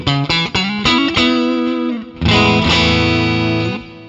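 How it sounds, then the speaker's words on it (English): Electric guitar notes and chords from an Ernie Ball Music Man Cutlass ring out with a wash of reverb and repeating delay, loud and close, the last chord sustaining then fading. "This is an Ernie Ball Music Man Cutlass."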